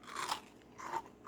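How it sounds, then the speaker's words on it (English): Crunchy almond and dried fruit biscotti is bitten and chewed up close, giving three short, crisp crunches in a quiet room. "you will hear when you bite, because let cool down, so it will be more crunchy"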